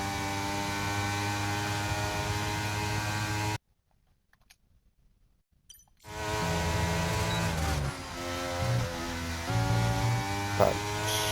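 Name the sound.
racing car engine in video game F1 23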